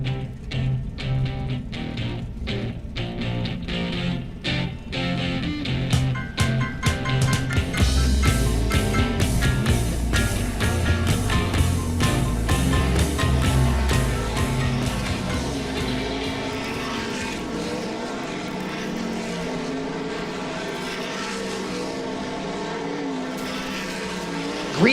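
World of Outlaws sprint cars run race-ready hot laps at Ohsweken Speedway with a loud, continuous engine roar. Revving engines build and sustain a dense, high-pitched drone throughout, with no talk.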